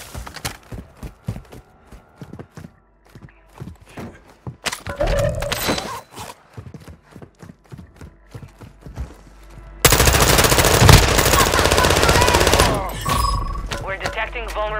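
Small caliber gunfire in a shooter video game rattles out in rapid bursts of sharp, close shots, starting in spaced clusters and building to a dense, loud sustained barrage near the end.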